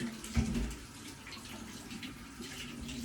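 Tap water runs steadily into a kitchen sink while hands are washed during home pizza making, a close, even rushing splash with a brief louder splash near the start.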